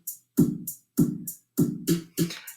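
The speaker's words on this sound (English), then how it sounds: "This is a closed hi-hat, and it's going to sound like this." A steady drum beat of evenly spaced hits, each with a thudding low body topped by a crisp, short closed hi-hat tick.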